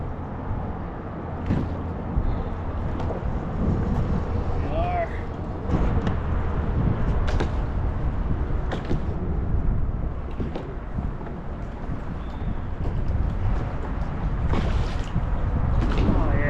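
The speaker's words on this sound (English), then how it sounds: "The wind coming across that west side of the bay." Wind gusting across the west side of a bay, a steady low roaring rumble with buffeting on the microphone, close and continuous, with people talking through it.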